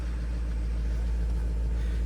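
A Volkswagen Touareg engine idles in winter with its check engine light on and the engine in emergency mode, producing a steady, deep, low rumble at an even level without pause.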